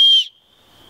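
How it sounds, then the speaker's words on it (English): A survival whistle from a compact bug out bag gives one short, loud, shrill blast that cuts off abruptly, followed by a faint lingering tone and quiet. "I also have a whistle right here that I can easily access if I see someone that I need to get their attention."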